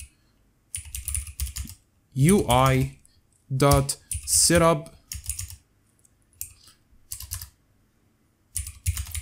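Bursts of rapid keyboard typing clatter between stretches of silence, while someone speaks briefly in between.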